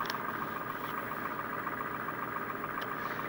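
A 1993 Chevy 6.5 turbo diesel idles with a steady, even mechanical hum and faint ticking, moderately quiet with no change in pitch throughout.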